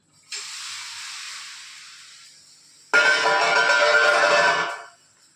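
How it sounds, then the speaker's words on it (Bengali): Whole spices and chilli dropped into hot oil as tempering for shukto, a Bengali home lunch, giving a soft hiss that bursts into a loud, broad sizzle for about two seconds before cutting off, with no talk. "এই যে দিয়ে দিল ফোড়ন"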